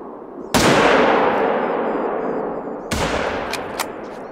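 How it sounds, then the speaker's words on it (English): Rifle shots in the hunting game The Hunter: Call of the Wild, two loud close reports each followed by a long rolling echo through woodland, with faint clicks after the second. "I'm just putting rounds in the woods."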